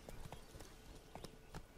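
Horse hooves clip-clopping during a ride in the video game The Witcher 3: Wild Hunt, a quiet, uneven series of hoof strikes in small clusters across the stretch, with no one speaking over them.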